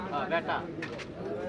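Pigeons coo at a busy pigeon market in Saruliya, Bangladesh: soft, repeated burbling calls come through a crowded bed of people talking nearby.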